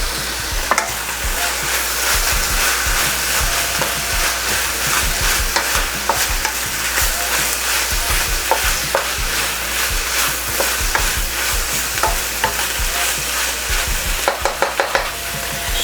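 Hot peppers hitting a wok of stir-frying alligator meat, a loud continuous sizzle with frequent sharp spatula clanks and scrapes, close up, with a quick burst of rapid clatter near the end.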